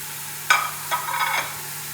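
Mixed mutton pieces are dropped into a hot pan with whole green chillies, giving a sudden loud sizzle followed by a couple more bursts of frying hiss and stirring, close and without speech.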